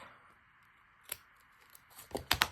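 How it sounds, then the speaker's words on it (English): Small scissors snip paper a few times in quick succession, close up and crisp, after a brief quiet pause. "These tiny little scissors are good for that."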